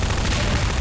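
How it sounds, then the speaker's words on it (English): Dense burst of gunfire in the video game Half-Life 2 fills the moment, loud and continuous, like several weapons firing at once with no gaps. "I hope you're enjoying the cacophony of gunfire."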